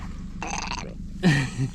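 A lake trout held out of the water lets out short burp-like grunts, two close gurgling bursts at moderate level, heard clearly over a quiet outdoor background.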